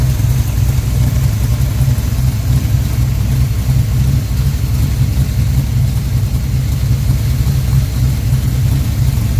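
A 406 cubic inch V8 street build tuned for pump gas runs at a steady idle, a loud, deep, even rumble that holds constant from start to finish with no talking over it.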